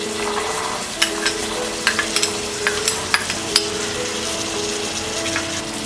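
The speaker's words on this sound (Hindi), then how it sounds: "अब हम इसमें डालेंगे बाकी सारे वेजीज, ये ग्रीन पीस, कैरेट" Green peas and carrots stirred into a hot pan with softened onion for broken wheat khichdi, a loud continuous sizzle with repeated clinking spoon scrapes and stirs scattered through it.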